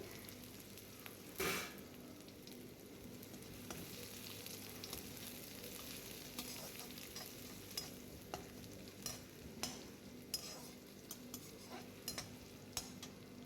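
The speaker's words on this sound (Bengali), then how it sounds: "রসুনটা একটু ভাজা ভাজা হলে আমি পেঁয়াজ কুচিটা দিয়ে দিয়েছি এর মধ্যে, দিয়ে এটাকে নাড়িয়ে নিয়ে নেবো যতক্ষণ এটা ভাজা হয়েছে" Chopped onion and garlic fry quietly in a pan, a faint constant sizzle broken by a spoon scraping and clinking as the mixture is stirred, with no talking.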